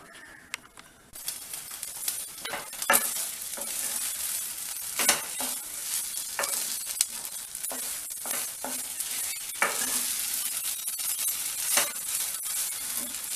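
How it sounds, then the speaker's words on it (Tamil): Wheat rava upma sizzles and bubbles steadily in a hot pan, with occasional clinks and scrapes of stirring, close and continuous without speech. "இது நல்லா கொதிக்கட்டும்."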